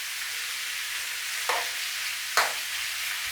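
Onions browning and blackening in a pan for chicken dopiaza, a steady close sizzle and crackle throughout, broken by two brief stirring scrapes.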